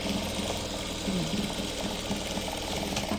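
A sewing machine runs steadily while stitching patchwork quilt pieces, a continuous close mechanical whir with no pauses and no speech.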